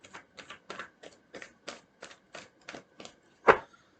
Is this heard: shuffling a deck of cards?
yes